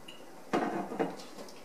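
A warm metal pan is handled on the stovetop as olive oil is swirled to coat its bottom, giving two quiet clanks and light scraping in a kitchen, with no talk.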